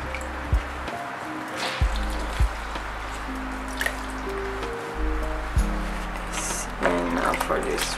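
Water drips and trickles in short, irregular splashes as wet tie-dye tote bag fabric is wrung out close by, with a faint low hum underneath.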